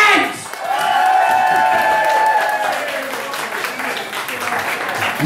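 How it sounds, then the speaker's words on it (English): A comedy show audience gives a round of applause and cheers, swelling quickly and holding steady, close and loud with some whoops mixed into the clapping. "You're doing a shit round of applause."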